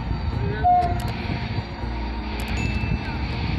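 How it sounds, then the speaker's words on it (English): A water train creeps slowly along a narrow track on a dangerous stretch, giving a steady low mechanical rumble with faint higher squeals and clanks drifting in and out. "A water train slowly moves on a narrow track"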